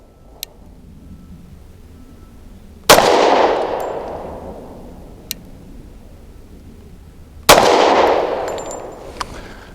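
Two sharp, loud pistol shots from a Tisas Night Stalker 1911 firing 155 grain Alchemist frangible ammunition outdoors, spaced several seconds apart, each with a long decaying echo, plus a few faint clicks between.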